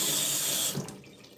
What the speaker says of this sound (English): I need to rinse all the citrus off my little hands